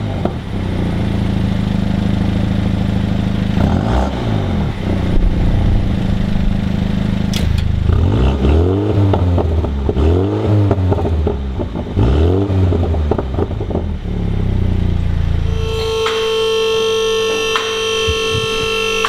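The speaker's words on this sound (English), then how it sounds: "let's start off with the before sound of the JCW Clubman" A Mini JCW Clubman on its stock exhaust idles with a steady low rumble, then revs repeatedly in rising and falling sweeps before settling back near the end, loud and close with no talking.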